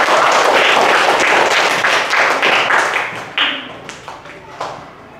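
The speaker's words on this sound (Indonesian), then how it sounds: "Tepuk tangan dulu buat Kadek Anggra" Classroom of students clapping for a classmate, a dense burst of applause that fades out over a few seconds into scattered last claps.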